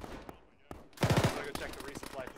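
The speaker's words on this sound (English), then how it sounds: "East shooting down into the town" Gunfire in the military video game Arma, with a short rapid burst of shots landing loud and close after a quieter stretch, then lighter scattered reports under faint voices.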